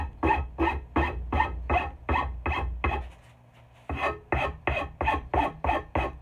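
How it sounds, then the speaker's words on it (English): Rasp filing along a wooden axe handle during hafting: a steady rhythm of close, loud rasping strokes, a short quiet pause near the middle, then more even strokes. "I'll just keep working my way up the handle, smoothing any of the lines or bumps out"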